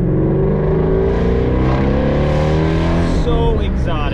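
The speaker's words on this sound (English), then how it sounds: "This is one of the most exotic cars I've ever heard" A Mustang GT350 flat-plane V8 engine revs and roars steadily, loud and close, with a deep rumbling tone that rises toward the end.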